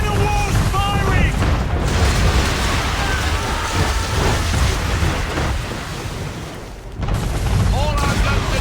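Deep booms of man-of-war cannon fire roll over a wash of rain and sea noise in Assassin's Creed III, with shouted voices in the mix and a sharp drop before the barrage surges again.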